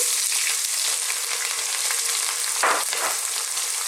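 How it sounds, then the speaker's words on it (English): Chopped onions frying in hot oil for an Indian vegetable curry, a steady close sizzle with a soft scrape or stir near the end, no talking over it. "Let's get our onions in."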